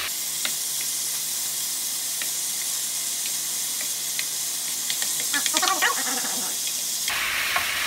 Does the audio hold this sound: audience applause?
no